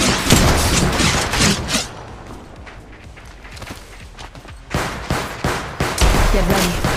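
Bursts of gunfire in the mobile shooter Apex Legends Mobile, loud rapid volleys at the start and again near the end with quieter scattered shots and movement between them.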